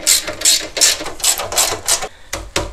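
A wrench tightens the bolts on an AJE caster camber plate on a Foxbody Mustang, a close, loud series of quick ratcheting clicks in rapid bursts.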